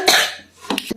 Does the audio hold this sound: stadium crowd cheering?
no